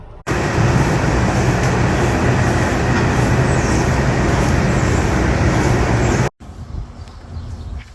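Heavy farm hay equipment chopping seeding, a loud, steady broadband engine and machinery roar heard up close from the cab for about six seconds, then cutting abruptly and returning quieter.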